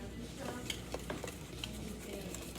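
Manicotti filling mixture being stirred in a bowl, quiet soft scraping with a few light clinks of a utensil against the sides, faint and close.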